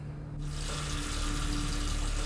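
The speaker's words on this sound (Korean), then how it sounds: "또다시 들려오는 물소리" Water gushing from a bathroom tap starts abruptly and then runs as a loud, steady hiss, close by, with no voices.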